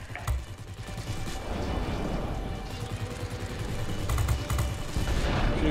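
Dense, continuous rattling gunfire in the aerial combat video game World of Warplanes, with rapid bursts and low rumbling at a steady moderate loudness, and no one speaking.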